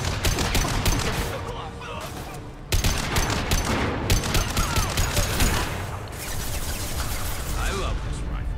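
Sustained rapid rifle fire in the sci-fi shooter Mass Effect 2, dense overlapping bursts of shots going almost continuously and loud, with a heavy jolt partway through, while voices talk underneath.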